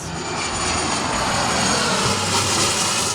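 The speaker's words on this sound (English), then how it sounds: "don't sleep on coming to the airport for some plane spotting" A steady, loud roar of an airplane engine near an airport runway, broadband and continuous throughout with no pauses, heard close by without any talking.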